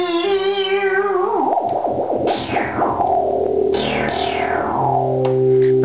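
A restored Micromoog synthesizer plays a buzzy, harmonically rich tone with pitch bend ribbon sweeps, several downward gliding swoops and wavering bends sounding loud and close with no voices.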